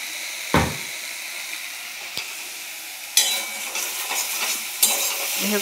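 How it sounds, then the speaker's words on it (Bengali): Pointed gourd sautés with ground mustard paste in a pan, giving a continuous loud sizzle with occasional sharp clinks and scrapes of a spatula stirring, and no voices over it. "অলরেডি সর্ষেটা কষানো হয়ে গেছে, তার মধ্যে পটলটাও দিয়ে দিলাম। পটল আর সর্ষে ভালো করে কষিয়ে"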